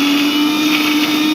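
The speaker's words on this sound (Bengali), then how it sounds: "এখন আমি মিক্সার গ্রাইন্ডারে বেটে নিচ্ছি" Mixer grinder whirring at high speed as it grinds mustard paste with salt, a loud, steady electric motor drone with a strong hum that runs throughout and cuts off abruptly at the end.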